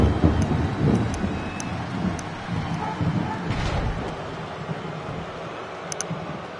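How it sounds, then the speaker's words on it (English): Rumbling thunder rolls outside a house during a rainy storm, a long low continuous rumble that slowly fades, with rain hiss and a few faint ticking sounds throughout. "It's been a lot of thunder outside my house right now."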